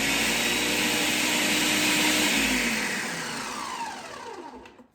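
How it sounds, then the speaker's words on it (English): A food processor pulses chopped carrots in a few loud, steady whirring bursts that wind down to a stop at the end, close up with no talking. "we're gonna give it a couple of pulses"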